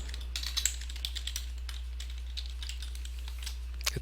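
Quick, irregular keystrokes tap on a computer keyboard while HTML list items are typed, a close, light clatter of separate clicks running steadily through the whole stretch, with a low steady hum beneath and no talking.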